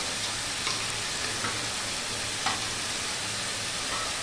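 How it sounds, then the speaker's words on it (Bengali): Potatoes, onions and dried fish frying together in oil give a loud, continuous, close sizzle with a few faint stirring scrapes. "এই যে আলু পেঁয়াজটা দিয়ে দিয়েছি তেলের মধ্যে, এর মধ্যে মাছটাও দিয়ে দেবো, একসাথেই ভাজা হয়ে যাবে।"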